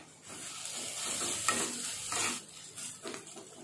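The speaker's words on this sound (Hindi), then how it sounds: "ये अदरक और लहसुन को थोड़ा सा फ्राई करेंगे।" Ginger garlic paste fries in a pan for pav bhaji, giving a continuous soft sizzle with scraping stir strokes, moderately quiet and close, no voices.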